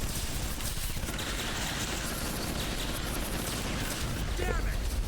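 Weapons fire continuously in Xenosaga Episode I, a dense, steady wash of rapid shots and blasts with no letup, and a short tonal effect near the end.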